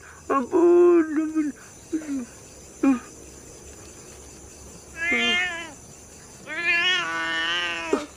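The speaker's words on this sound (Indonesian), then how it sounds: "Gua kira memedik, lu tahu nih kucing." A cat meows repeatedly at close range, several drawn-out calls in two bursts with short gaps, the later ones longer and more strained, over a faint steady background hiss.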